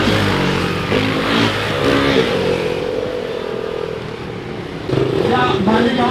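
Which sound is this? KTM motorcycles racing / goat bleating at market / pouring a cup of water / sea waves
KTM motorcycles racing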